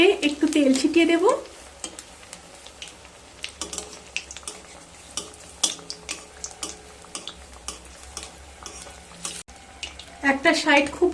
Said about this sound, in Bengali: একটা সাইড খুব ভালো করে ভেজে নেব